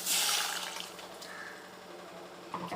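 Water poured into curry paste in a pan: a bright pouring splash at the start fades into quieter liquid bubbling and mixing sounds, with a small clatter near the end.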